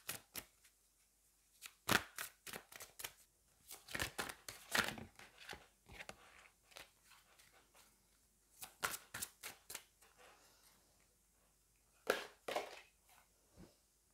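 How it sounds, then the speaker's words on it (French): A deck of tarot cards is shuffled and cards are drawn, giving soft close riffles, flicks and slaps in irregular bursts with quiet gaps between them. "Je vais peut-être prendre une deuxième carte de ce jeu"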